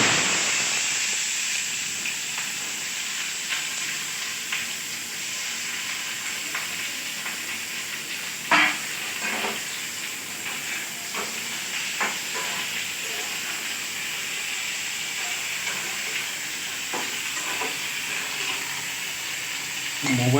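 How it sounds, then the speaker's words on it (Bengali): Nigella seeds tempering in hot oil for a vegetable chachchari, a long steady frying hiss with scattered faint crackles and a few utensil clicks, moderately quiet and close, no talking. "কালো জিরে ফোড়ন দিয়ে দিলাম চচ্চড়ির জন্য"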